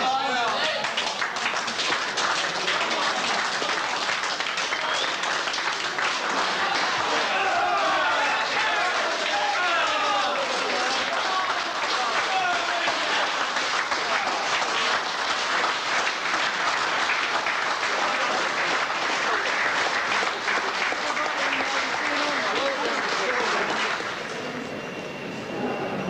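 A prison audience applauds and cheers loudly and continuously, with dense clapping and scattered shouts and voices sustained for about twenty-five seconds before tapering off slightly at the end.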